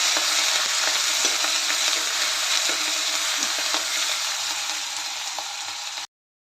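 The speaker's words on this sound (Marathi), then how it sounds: "आता हे 2 मिनटं चांगलं परतून घेऊया." Chopped onion, curry leaves and tomato sizzling and frying steadily in a hot kadhai for bitter gourd sabzi, a dense close crackle with occasional stirring taps, continuous until it cuts off abruptly near the end.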